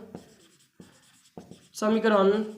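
A pen scratches across paper in three short bursts of strokes while a math equation is written out, followed by a person beginning to speak.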